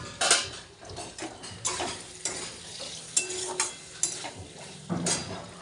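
Fried potatoes and chopped tomatoes go into a pan of cooked-down spices, giving scattered clinks, scrapes and soft sizzling bursts of stirring at close range.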